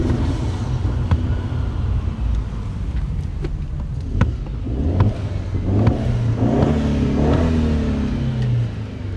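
A Mercedes-Benz C250 W204 C-Class engine revs close by with blow-off, its growl rising and falling in repeated surges, with a deep rumble underneath.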